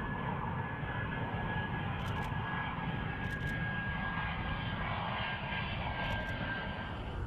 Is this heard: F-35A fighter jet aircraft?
yes